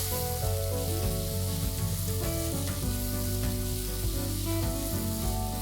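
Chicken keema frying dry in a pan, a steady loud sizzle with scraping stirring throughout and no talking.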